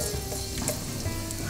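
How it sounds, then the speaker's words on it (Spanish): Chopped garlic sizzling in oil in a frying pan, a soft continuous crackle and hiss with small pops, fairly quiet and close, with no one talking. "Vamos a echar nuestro ajito."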